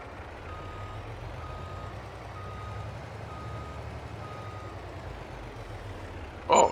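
Reversing beeps from a truck in Farming Simulator 22 repeat in a steady, evenly spaced rhythm over a constant low engine rumble, with a brief louder burst of sound right at the end.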